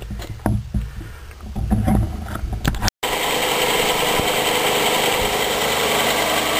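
A Philips Stirling cycle generator runs in a confined space, giving a steady, fairly loud broadband whir and hum after some brief handling noises at the start.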